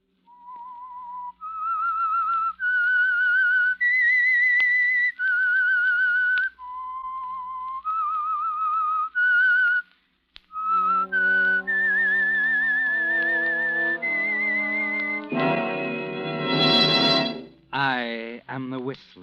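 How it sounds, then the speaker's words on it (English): A whistled signal tune opening a 1946 radio drama, clear held notes stepping up and down in a melody, loud and alone, followed by orchestral music swelling underneath. "That whistle is your signal for the Signal Oil Program"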